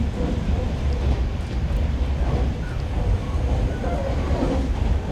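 A Japanese subway train rumbles along in a steady, loud interior roar with faint rhythmic rattling, while people talk under the noise.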